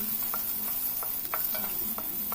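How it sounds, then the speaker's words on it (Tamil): Finely chopped onion with curry leaves sautéing in oil in a pan, a steady close sizzle broken by several soft scrapes of a spoon stirring, with no talking. "வெங்காயம் கொஞ்சம் வதங்கட்டும்."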